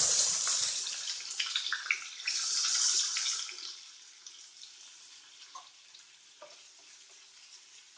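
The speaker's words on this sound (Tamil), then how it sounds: "கருவேப்பிலை ஆட் பண்ணதுக்கு அப்புறமா வெங்காயம் ஆட் பண்ணுறோம்." Onions dropped into hot oil after curry leaves for a fish curry, a loud burst of hissing sizzle that gradually settles into quieter crackling, close with no speech.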